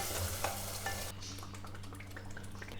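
Mustard greens hit hot oil and masala with a loud sizzle, a spatula stirring them around the pan as the frying settles to a steady crackle.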